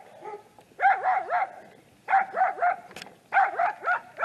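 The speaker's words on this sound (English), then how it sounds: "we don't need everyone barking." A dog barks in three quick bursts of rapid, high yipping barks separated by short pauses, fairly close and with no talking over it.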